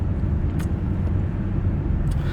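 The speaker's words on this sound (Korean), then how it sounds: "지금 차 타고 있는데." Low steady road rumble and engine drone heard from inside a moving car, continuous and fairly loud, with a couple of brief faint hissy sounds over it.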